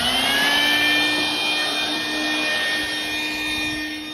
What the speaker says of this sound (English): Okay, so let's vacuum it.